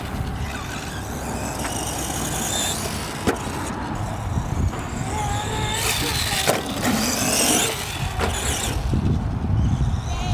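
An Arrma Gorgon RC car runs on a dirt RC track with jumps, its motor whining steadily and rising and falling near the listener, with a few sharp knocks along the way.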